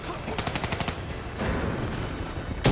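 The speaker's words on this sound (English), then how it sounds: "I was shooting at Diaz." Gunfire in the Black Ops 3 co-op campaign, with a rapid run of automatic shots at the start followed by dense, continuous battle noise and a sharp hit at the end.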